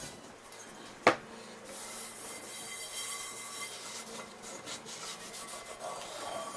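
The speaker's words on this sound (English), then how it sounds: "So wipe off all of the apparent oil as well, inside and out." A cloth or paper towel rubs excess oil off a cast iron pan inside and out, giving a steady soft wiping hiss after one sharp knock near the start, close and fairly quiet, with no voices.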